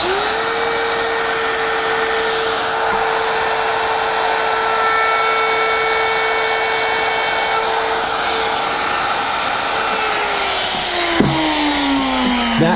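Router fitted with a carving liner bit cutting a line into scrap poplar, a loud, steady high-pitched whine running continuously, then winding down in pitch near the end.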